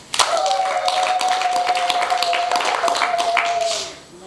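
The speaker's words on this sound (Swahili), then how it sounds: "Tumpigie Bwana Yesu makofi." Women's camp congregation claps for Jesus in a run of scattered hand claps and taps, with a sustained tone and murmuring voices underneath before the sound fades out at the end.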